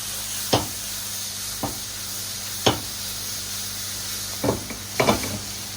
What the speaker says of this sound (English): So then you start to stir it and wait until it all becomes slightly brown.